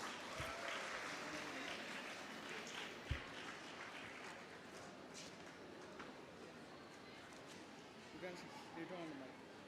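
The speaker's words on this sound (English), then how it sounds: "Let's welcome him with a huge round of applause." An audience at a public speaking competition applauding to welcome a speaker, a dense, sustained clapping that continues steadily for about ten seconds, with a faint voice beneath it.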